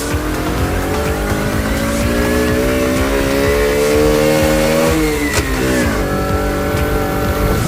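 A Romet Pony 50 moped being ridden, its small engine droning loud and close with a steady whining pitch that dips and climbs again near the end, no talking.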